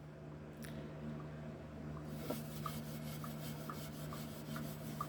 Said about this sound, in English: So we're just going to scrub over this hot pan with this steel wool.